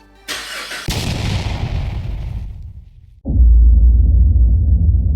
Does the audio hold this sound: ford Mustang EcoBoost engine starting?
yes